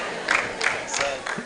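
An audience at a gospel music event clapping and cheering, a dense wash of crowd noise with rising bursts of shouts; no clear speech.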